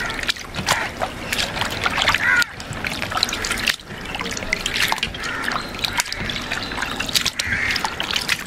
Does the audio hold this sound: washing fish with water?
yes